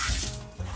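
Hotel shower head in a tub-shower combination running a steady stream of water, a continuous close hiss that dips briefly then resumes.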